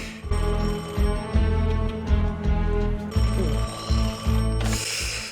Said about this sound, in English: That phone ring.